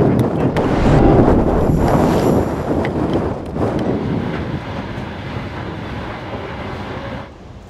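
A train running from Crimea toward mainland Ukraine gives a continuous loud rumble with heavy wind buffeting, rhythmic clatter in the first seconds and fading slightly toward the end.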